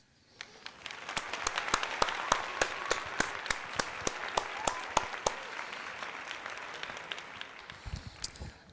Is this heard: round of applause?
yes